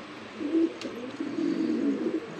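Kashmiri silver pigeons cooing softly at a loft, low repeated coos close by with a faint flutter or rustle in the background and no speech.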